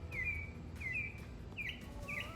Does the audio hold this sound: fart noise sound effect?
no